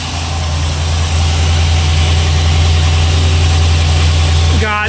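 A Silverton 34C boat's engine idles steadily and loudly with a constant low rumble and even vibration throughout, ending with a brief rising whine.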